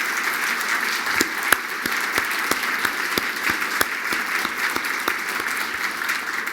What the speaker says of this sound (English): let's give them a big round of applause for their good work